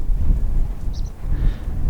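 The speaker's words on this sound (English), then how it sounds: "Another windy day out here in Wyoming." Strong wind in Wyoming buffets the microphone in a steady low rumble, loud and close, with a faint higher sound briefly poking through.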